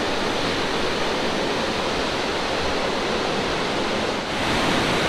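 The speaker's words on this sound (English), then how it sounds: "there's a roar of water coming through these waterfalls" Water pours through Box Canyon Falls in Colorado with a loud, dense, continuous roar that fills the scene without letting up, and no one speaks.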